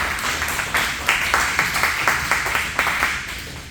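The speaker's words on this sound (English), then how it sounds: "Let's give another round of applause for John and what the town of Carrboro is doing" Audience applause at a Carrboro business summit, a steady wash of many hands clapping with regular sharper peaks, sustained and fairly close throughout.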